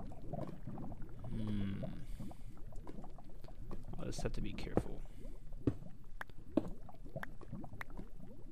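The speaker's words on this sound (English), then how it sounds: "And I hear lava." Lava bubbles and pops in an underground Minecraft cave, a soft, steady liquid gurgle running beneath a man's close, quiet talking.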